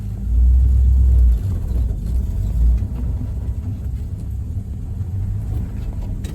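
A 1950 Oldsmobile 88 with a 303 Rocket engine and three-speed manual gearbox reverses, its engine giving a loud, low, steady rumble that swells briefly at the start, heard up close with no talking.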